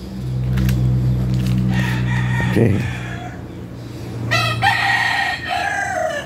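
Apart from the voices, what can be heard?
rooster crowing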